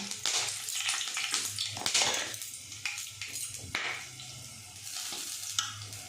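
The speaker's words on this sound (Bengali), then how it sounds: "এবারে ফোড়নে দিয়ে দিচ্ছি এলাচ, লবঙ্গ আর তেজপাতা।" Whole cardamom, cloves and bay leaves sizzle in hot oil as a tempering, with a steady close crackle and stirring scrapes throughout and no talking.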